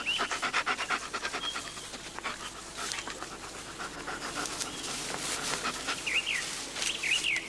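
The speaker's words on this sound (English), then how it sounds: "Bring the dog up here" Police dog panting steadily and fairly close in an outdoor search area near a gully, with birds chirping in the background.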